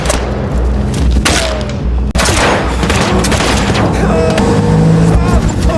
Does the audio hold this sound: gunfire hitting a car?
yes